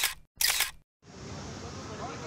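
A single-lens reflex camera shutter fires at 1/250th of a second while photographing cyclists at a sports event: two quick, sharp clicks close together, followed by a steady low outdoor hiss.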